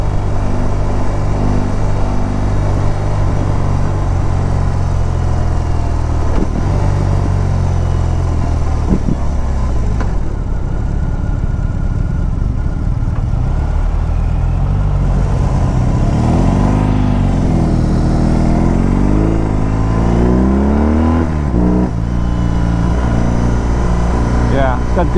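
A 2022 BMW R 18 Transcontinental heavy touring motorcycle rumbles steadily while riding, its low engine drone shifting in pitch with throttle changes, with someone talking over it throughout.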